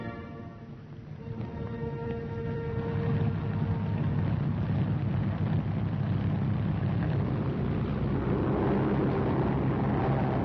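Soviet WWII fighter aircraft taking off, a steady low engine roar that swells and holds loud across the whole stretch, with no voices over it.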